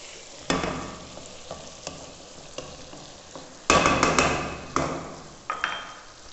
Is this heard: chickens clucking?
no